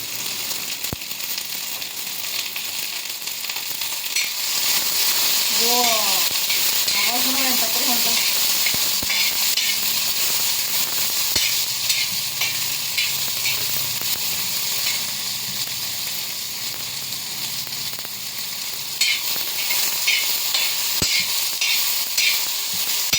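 Food fries in oil in a pan during home dinner preparation, a steady hissing sizzle throughout with occasional clicks and a brief voice-like sound in the middle.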